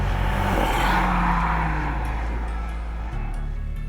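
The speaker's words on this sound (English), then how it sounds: "you're never ever going to get tired of the slug of acceleration when you put your foot" A Mercedes GLA 45 AMG accelerates hard, its engine a loud, sustained roar that climbs steadily in pitch for a few seconds, close and continuous with no talking.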